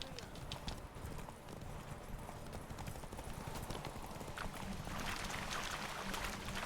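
Hooves clip-clop rapidly as a horse gallops in a race in The Witcher 3, a steady drumming of footfalls with game ambience around it and voices speaking over the run.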